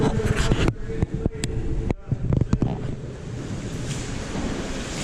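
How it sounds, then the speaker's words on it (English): Broadband water splashing and sloshing on an underground kayak tour in a Kentucky cave, with sharp bursts in the first two seconds, then a steady rushing wash, close and fairly loud. "we're splashing the water"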